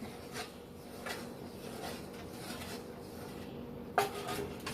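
A spoon stirs sugar into orange iced tea, making soft repeated scraping and light clinks against the container and ending in one sharper clink near the end, close and fairly quiet.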